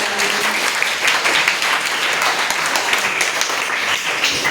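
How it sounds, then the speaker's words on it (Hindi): A school audience at a quiz competition for classes 6 to 8 claps loudly and continuously for the winners, a thick, steady wash of many hands close by throughout. "सोनाली और आर्यन के लिए जोरदार ताली।"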